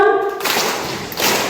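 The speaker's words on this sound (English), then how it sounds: "One, two, three, clap 1." A crowd claps in unison once at a youth program event, a burst of applause-like sound filling the rest of the moment, loud and near with a voice briefly before it.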